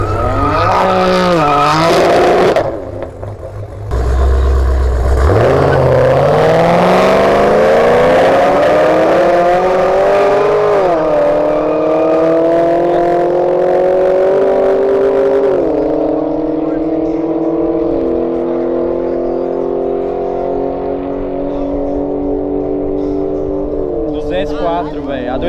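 A car drifting at a Full Power event, with loud sustained engine revving and rising pitch, squealing, crackling tires, close and dominant throughout while people shout and talk over it.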